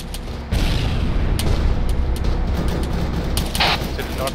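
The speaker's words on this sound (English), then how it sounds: "Mortars." Distant mortar explosions in the ARMA 3 military game rumble as a steady, loud low boom through the whole stretch, with sharp ticking transients scattered on top and a voice speaking briefly in the background.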